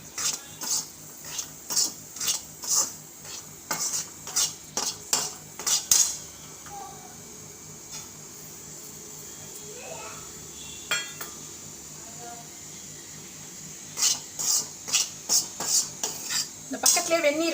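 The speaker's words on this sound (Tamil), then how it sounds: "அந்த நெய்யிலேயே இந்த கோதுமை மாவை போட்டுட்டுருக்கோம். நல்லா வறுத்துக்கணும்." Wheat flour being stirred and roasted in ghee in a pan for halwa, a spoon scraping and clinking against the metal in quick rhythmic bursts, pausing midway and then resuming, close and fairly quiet with no talk.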